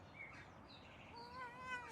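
A cat meows softly in the medieval video game Pentiment, a short rising, faint call with a thin, tonal quality, heard alone.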